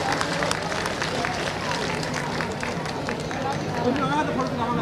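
Festival audience at the Uttarakhand Mahotsav in Lucknow claps steadily for the event's president, a continuous dense patter of applause with voices talking over it.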